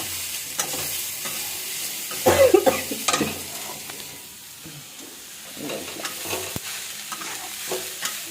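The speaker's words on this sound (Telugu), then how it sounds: "ఇది కొంచెం ఫ్రై చేద్దాం." Frying in a pan with busy stirring, a soft sizzle under repeated scrapes and clinks of a spoon, loudest in a short burst early on, then settling into lighter intermittent stirring.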